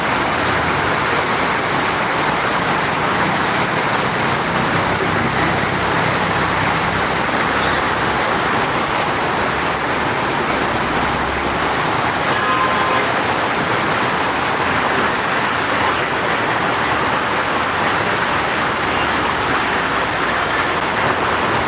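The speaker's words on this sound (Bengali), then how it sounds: "দেখেন প্রচণ্ড বৃষ্টি হয়েছে প্রচণ্ড" A loud, steady wash of heavy rainfall in Dhaka, constant throughout, with no voices.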